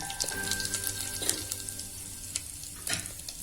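Curry leaves and asafoetida hit hot oil for a tempering, giving a faint, steady crackling sizzle with a few brief louder pops over a low background hum.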